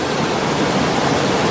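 A river in Bryson City, North Carolina, flows just feet from a parked camper, making a loud, steady rushing wash of water with no pauses.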